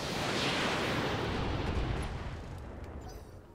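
Indirect artillery fire crashes down on a Locust mech in a BattleTech strategy game, a heavy, rumbling explosive roar that swells early and then slowly fades out, with no voices.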